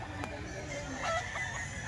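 Rooster crowing once at moderate distance, a rising then falling call over steady background noise, with another faint fowl call around it.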